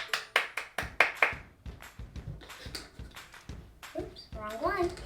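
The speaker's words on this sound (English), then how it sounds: "Let's all give a hand clap." Several quick hand claps ring out in a rhythmic run at the start, followed by softer taps, while a voice chatters and talks over the latter half.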